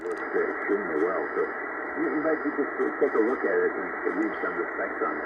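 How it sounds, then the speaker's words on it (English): Shortwave static with a noise blanker engaged on a Xiegu G90 transceiver, a steady band-limited hiss with warbling signal traces, continuous and fairly loud throughout. "you could hear more static"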